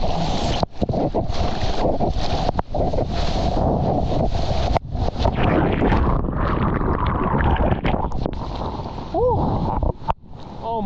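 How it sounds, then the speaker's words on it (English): Loud gusty wind buffets the microphone at an east coast Australian surf beach, constant rumbling roar broken by brief dropouts, with faint voice-like sounds near the end. "It's so windy."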